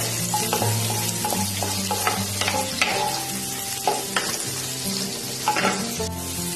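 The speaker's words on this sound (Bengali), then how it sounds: "এটাকে আমি সামান্য ভাজবো, বেশি ভাজবো না।" Vegetable fried rice ingredients are lightly fried in a pan, with a close, steady sizzle punctuated by repeated clinks and scrapes of a spatula stirring.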